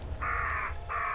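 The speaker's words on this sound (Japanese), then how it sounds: "カラスかよ" Two harsh crow caws ring out in the horror video game Home Sweet Home, a long call followed by a shorter one after a brief gap, over a low droning ambience.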